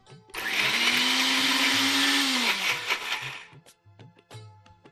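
A blender grinding chutney whirs loudly for about three seconds, its motor pitch rising as it runs, then stops, followed by a few knocks and clatters.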